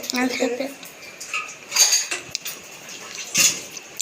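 Dishes and pots clatter and clink intermittently, with sharp metallic knocks of utensils against steel and a faint voice nearby.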